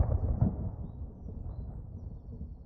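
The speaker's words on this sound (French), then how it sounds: "Il y a une tempête qui se prépare." Thunder rumbles from a brewing storm in a cartoon, a deep, steady, low roll that swells briefly at the start and then fades gradually.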